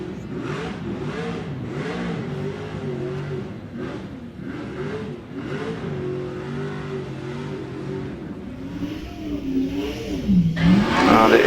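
BRM 16-cylinder 1.5 litre racing car on a hillclimb demonstration run, its engine a steady, fairly loud mid-pitched howl with shifting revs that swell toward the end.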